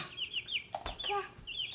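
Baby chicks give high, repeated peeping calls close by while someone handles them indoors, with a few soft thuds and brief movement sounds between the chirps.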